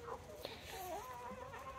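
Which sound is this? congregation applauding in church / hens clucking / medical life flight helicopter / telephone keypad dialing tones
hens clucking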